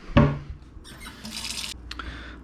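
Cool water runs into a bowl for measuring while making sub roll dough, starting with a hollow clunk, then a brief splashy stream that stops and trickles, close and moderately quiet.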